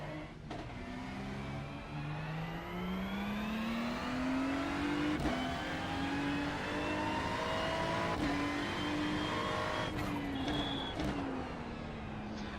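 A NASCAR race car engine in the iRacing simulator drones and revs at moderate loudness, its pitch slowly rising and falling over several seconds, with a few brief clicks along the way.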